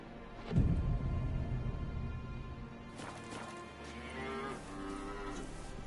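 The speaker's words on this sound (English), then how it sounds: "Oh my goodness, there's a lot of cows." Several cattle moo in The Witcher 3 video game, long low lowing calls overlapping one after another at moderate distance, with a soft thump near the start and steady game ambience underneath.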